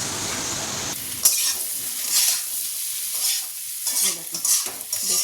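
Food frying in a pan for a chili dish, a steady close sizzle with repeated scraping stirs throughout and no talking.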